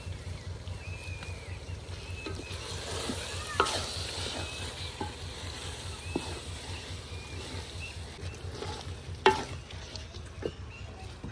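Turmeric, red chilli and dried coriander masala fry in oil in a pan, a soft continuous sizzle with a quick regular rhythm of stirring and occasional clinks of the spoon, faint and unaccompanied by voices.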